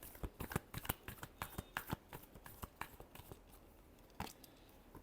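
Tarot cards being shuffled by hand, a quiet, close series of quick riffling flicks and soft slaps in uneven bursts, with no talking.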